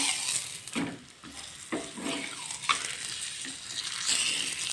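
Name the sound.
roti frying in oil in a pan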